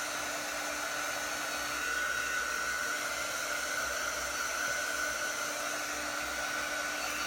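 Heat tool blowing a steady, loud airflow hiss as it dries thick ink painted onto a Peanuts sportswear shirt before heat pressing, continuous and unbroken with no talk.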